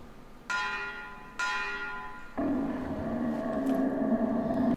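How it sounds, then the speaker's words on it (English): A dinner bell rings in the video game Metro Exodus: two clear, resonant strikes about a second apart, then a louder, fuller ringing swells and sustains to the end. "We then find what seems to be the fish's dinner bell."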